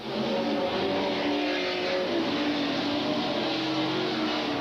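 Super stock race cars roar down the main straightaway at a short-track racing event, a steady, dense engine drone from several cars together at moderate distance, with no talk over it.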